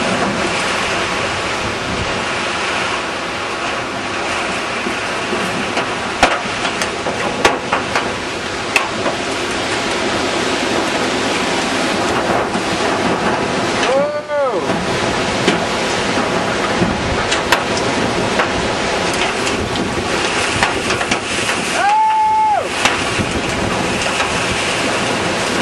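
Strong wind roaring through a backyard during a tornado storm, a loud continuous broadband rush with gusty flutter, briefly dipping twice as something rumbles past.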